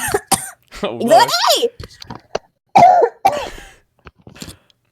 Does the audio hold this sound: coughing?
yes